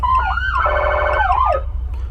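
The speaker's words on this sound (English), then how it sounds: "We have a rotary knob for our siren controllers." A Bullville Fire apparatus siren, run from a Vengeant Surge siren controller, sweeps through a loud wailing rise and fall at close range over a low engine rumble, then cuts off.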